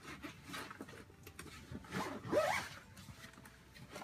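A zipper on a laptop case is drawn in one brief, close rasping pull, with faint rubbing and handling around it, set amid packing up an RV on moving day.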